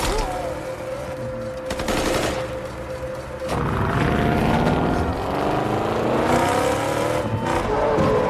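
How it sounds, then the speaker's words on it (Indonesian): Gunfire crackles through a police car chase in an action film, with rapid bursts of shots over the roar of revving, speeding car engines, loud and dense throughout with no speech. "terlibat kejar-kejaran dan baku tembak yang membuat salah satu anak buah Brendan tewas tertembak"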